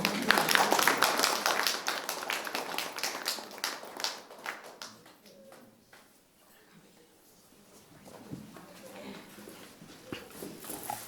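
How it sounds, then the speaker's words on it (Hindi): An audience claps at an inauguration and blessing ceremony for Nirmala Academy in Gurha, Daltonganj, with dense, loud applause at first that thins into scattered claps and then fades, with a few later bursts. "एक बार जोरदार तालियां हो जाए"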